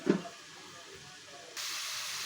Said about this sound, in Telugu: చూడండి ఉల్లిపాయలు మగ్గుతున్నాయి కదా